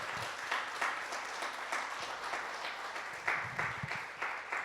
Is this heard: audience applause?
yes